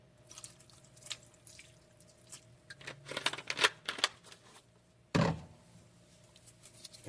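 Vinegar is poured onto raw oxtail in a kitchen to clean the meat, giving a light splashing trickle with scattered drips, then a sharp louder splash near the end, close up and with no voices.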